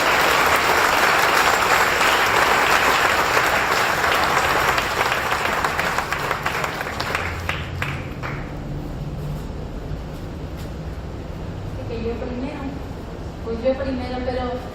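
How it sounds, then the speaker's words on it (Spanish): Loud applause from a church congregation fills the first half, fading after about seven seconds into quieter crowd murmur and a speaking voice near the end. "También den un fuerte aplauso a Jesucristo"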